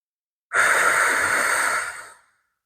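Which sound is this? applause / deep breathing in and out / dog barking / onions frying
deep breathing in and out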